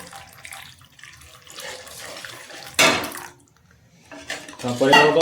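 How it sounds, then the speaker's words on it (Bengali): Water is poured into a pot of soya chaap curry in a home kitchen, making a few short splashing, running pours that come and go, with a voice faintly under them. "জল দিয়ে দেবো সুন্দর করে।"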